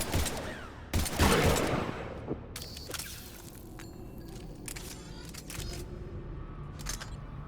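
Gunfire in Mass Effect 3 Legendary Edition, with a couple of loud, sharp bursts early on followed by scattered quieter shots and mechanical clicks over a low background rumble.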